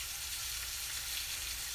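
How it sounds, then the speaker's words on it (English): Hamburger meat frying in a pan on a home stove, giving a steady, close sizzle with an even hiss throughout and no talk over it. "So, the steam you hear, I have hamburger meat frying."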